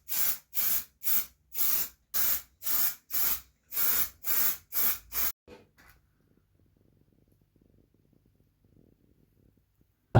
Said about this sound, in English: give this a little spritz up with some primer